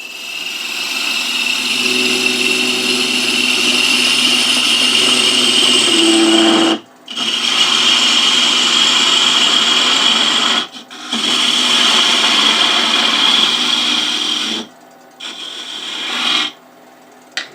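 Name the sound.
wood lathe parting cut on a wooden tower top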